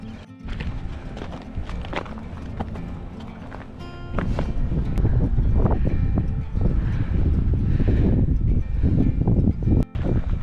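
Strong wind gusting across the top of Double Peak Trail in Southern California, a loud buffeting rush against the microphone with rumbling thuds and scuffing steps, growing heavier in the second half.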